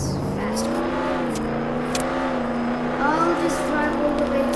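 A fast Lamborghini fitted with a level 5 engine is driven in a video game. Its steady, high-pitched engine drone holds close and loud, then rises slightly in pitch near the end.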